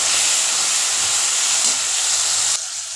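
Prawns fry in oil with cumin, ginger paste, salt, turmeric and chilli powder, a strong close hiss of sizzling that drops in level for the final half second.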